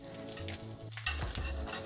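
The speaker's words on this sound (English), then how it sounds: "You can see some sizzling" Food sizzles and crackles in a hot stainless steel pan, a constant frying hiss with a few soft clanks and scrapes from stirring.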